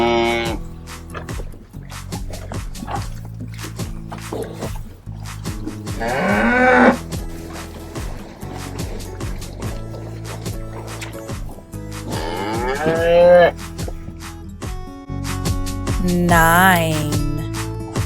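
Cattle moo three times in drawn-out calls over a steady, cheerful children's farm song about counting nine cows.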